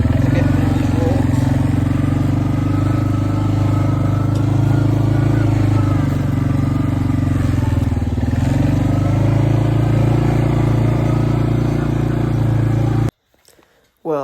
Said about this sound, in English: It's just a tight little spot for this four-wheeler to get through these woods.